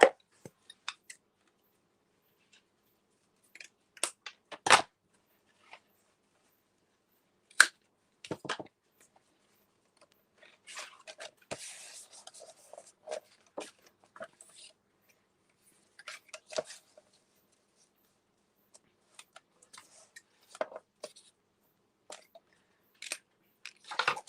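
Scissors snip through craft paper while decorating the edge of a mini album, sparse crisp cuts and small rustles scattered across a very quiet room, close and faint, no talk.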